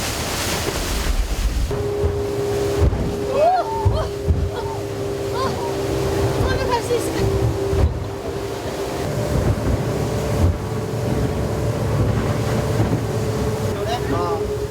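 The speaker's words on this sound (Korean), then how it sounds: "빗방울이 떨어지기 시작하더니 설상가상 파도도 점점 거세지는 거 있죠?" A boat's engine hums steadily on a rough sea off Indonesia as rain begins and the waves build, with constant wind buffeting and water wash around the hull.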